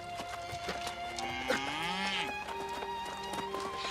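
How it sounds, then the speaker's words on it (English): Cows mooing in a town in the New World Aeternum video game, several drawn-out lowing calls overlapping at moderate distance against soft ambient background sound. "The cows are mooing."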